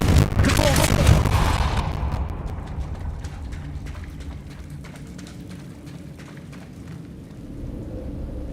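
A Confringo fire spell blast from Hogwarts Legacy bursts loud and broad, then decays into a rumbling, crackling tail of scattered sharp pops that fades over several seconds.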